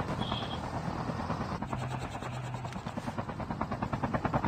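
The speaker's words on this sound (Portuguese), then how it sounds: "helicóptero atenção em cima de mim" Helicopter hovering overhead in the Call of Duty Mobile video game, a loud continuous rotor chop with a steady pulsing beat that grows more distinct toward the end.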